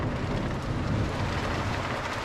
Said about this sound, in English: only now it started raining heavy